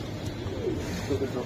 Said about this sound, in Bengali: এগুলা আসলে সারাসারি বা উড়ানের জন্য খুবই সুন্দর কবুতর